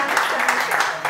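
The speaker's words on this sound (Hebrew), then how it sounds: "אז תעשו כפיים" Brief burst of audience clapping at the close of a lecture, a few uneven claps near the listener with some voices mixed in.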